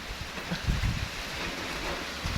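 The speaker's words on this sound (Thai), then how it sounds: "ตอนนี้ก็ฝนตก" Rain falling during a storm around a hut, a steady wash of hiss with wind buffeting the microphone and a few low thumps, close and moderately loud.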